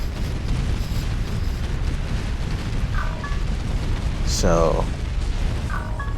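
Mines in the real-time strategy game Art of War 3 are destroyed by force fire, giving a sustained low rumbling roll of explosions with a few bright pings on top while someone talks over it.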